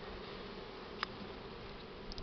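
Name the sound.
honeybees buzzing at the hive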